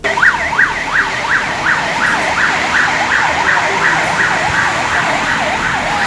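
A fire engine siren wails loudly and continuously as the truck arrives at a rescue scene on a street in Teresópolis, its rapid rising-and-falling yelp cycling steadily with road noise underneath.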